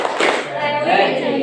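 A class of primary school students standing up claps together in a rhythmic clap chant, loud and close, with voices mixed into the clapping.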